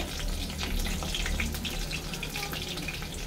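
Bitter gourd (karela) slices fry in hot oil with a steady, close, broadband sizzle and crackle that holds evenly throughout, no voices.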